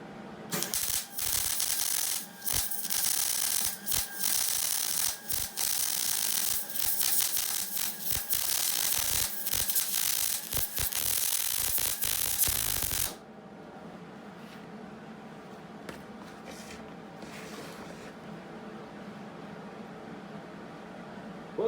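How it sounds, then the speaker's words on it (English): Welding a spare tire bracket produces a loud, steady crackling and sizzling hiss dense with sharp pops for about thirteen seconds, then cuts off to a quieter hum with a few scattered ticks and clinks. "Welding!"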